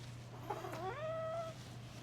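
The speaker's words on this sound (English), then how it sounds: "This is my sick cat this morning." A sick cat with digestive issues lets out a single drawn-out, wavering meow, close and moderately loud over a steady low electrical hum, with no talk.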